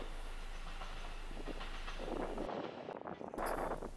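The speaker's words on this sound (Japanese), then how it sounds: "先ほど車庫から出てきてた、アーバンライナーネクストが、このホームに入ってきます。" A Kintetsu Urban Liner Next train rumbles into a station platform near the Nabari depot, its wheels and motors building steadily with clattering and a rising hiss as it draws near.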